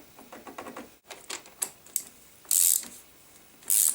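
A tool ratchets bolts while a Shimano 105 bicycle crank is refitted, quick mechanical clicking runs close by, then two loud hissing bursts follow.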